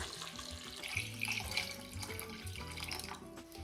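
Cold water runs steadily from a kitchen tap into a pot of whole potatoes, a close, continuous splashing gush with faint bubbling as the pot fills.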